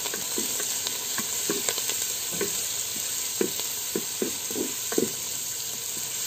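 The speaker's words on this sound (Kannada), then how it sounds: "ಈಗ ಸ್ವಲ್ಪ ಕರಿಬೇವನ್ನು ಕೂಡ ಹಾಕ್ತೇನೆ." Curry leaves fry with tomatoes in a pan for chicken curry, a steady close sizzle broken by repeated scrapes and stirring knocks of a utensil, with no talking.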